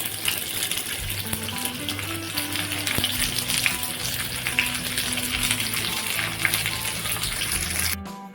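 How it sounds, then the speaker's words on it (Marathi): Stuffed okra fries in a pan, a dense steady sizzle with bubbling oil, heard alongside a low tonal background hum throughout. "इथे भेंडी मी सर्व ठेवली आहे फ्राय करण्यासाठी"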